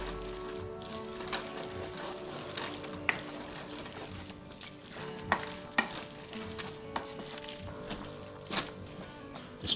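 Garlic fries for chop suey with a soft, continuous sizzle in a pan, broken by intermittent sharp clacks and scrapes of a utensil stirring. Close, fairly quiet, and without talking.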